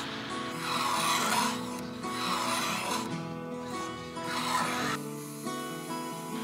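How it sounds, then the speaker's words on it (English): Valve seat cutter machining angles into hardened steel valve seats in a Toyota Land Cruiser FJ60 2F engine head, a steady grinding rasp that swells and eases in repeated passes, close and loud, with no talk. "Now we're actually machining the valve seat angles into the hardened steel seats."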